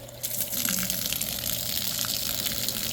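Milwaukee M12 battery-powered submersible stick pump moving water with no hose fitted, a steady close gushing, splashing flow that runs continuously and alone.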